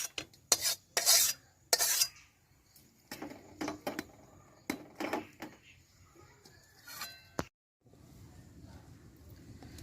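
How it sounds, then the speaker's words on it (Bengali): Cooked gima greens are mixed by hand, with a series of irregular wet squelches and rubbing scrapes, some sharp and close, separated by short quiet gaps. "এবার আমি মেখে নিচ্ছি"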